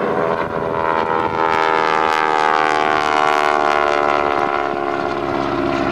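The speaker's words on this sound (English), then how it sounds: "And Reese Dill in the T-6 Texan." A North American T-6 Texan propeller plane flies at an airshow, its loud droning engine roar steady and close throughout, with the pitch slowly sliding as it passes.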